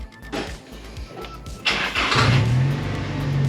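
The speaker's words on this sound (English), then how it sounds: "First time this car's been started since before I went away." A Nissan 180SX running on E85 fuel cranks with a few rhythmic starter turns, then fires up within about two seconds and settles into a loud, rough idle close by.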